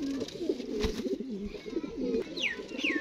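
Pigeons kept for fighting and sale coo in repeated low, throaty rolls close by, with a couple of short higher chirps from other birds near the end.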